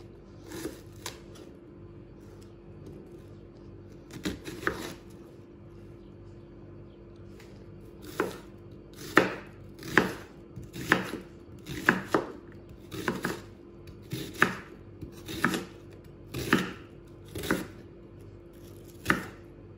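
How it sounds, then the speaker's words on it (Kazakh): A knife coarsely chops onion on a cutting board, sharp quick thuds coming in short bursts, sparse at first then in a steady rhythm, close and clear over a quiet kitchen background. "Одан кейін жуамызды видеода көрсетілгендей етіп ірі қылып тураймыз."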